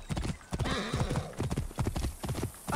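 Horse hooves clip-clop in a steady rhythm from a mount in the game Assassin's Creed Origins, with a whinny rising partway through, fairly close and loud.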